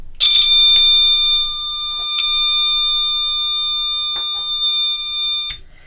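A steady electronic tone from a 555 timer circuit rings continuously, shrill and harmonic-rich, with a few soft clicks and bumps underneath.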